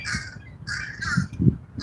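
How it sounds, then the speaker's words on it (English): Several crows caw overhead by a riverside fishing spot on the Anacostia River, with a few harsh calls spaced across the moment, fairly close and clear over low background noise. "I got these damn crows on top of me."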